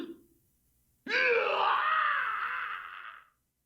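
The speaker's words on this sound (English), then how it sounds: "A dying scream." After a brief ragged murmur, a loud drawn-out dying scream from the Chaos;Head NoAH video game rises abruptly, wavers for about two seconds, then cuts off into silence.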